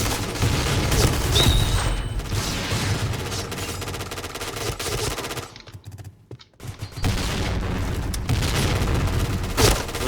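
Loud, sustained automatic gunfire and booms in the shooter game Point Blank, heavy rapid bursts that break off briefly before resuming.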